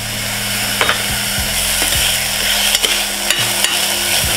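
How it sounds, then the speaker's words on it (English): Garlic cloves fry in a pan for a vegan BBQ sauce, a loud steady sizzle with a few clacks of a utensil stirring against the pan. "And now we're going to add our garlic."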